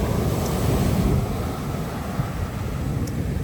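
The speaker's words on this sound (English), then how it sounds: "Look at these waves" Big ocean waves crash and surge continuously onto a rocky shore in the Philippines near high tide during typhoon season, a loud, dense roar mixed with gusting wind buffeting the microphone.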